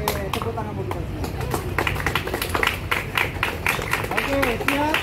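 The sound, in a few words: group clapping hands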